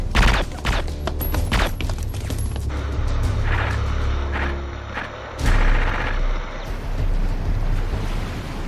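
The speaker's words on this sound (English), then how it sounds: "we're under heavy fire!" Heavy gunfire in an action movie firefight on a shore with Navy SEALs, loud crackling volleys in the first seconds, then a rumbling, wind-blown mix of distant shots, surf and engine noise.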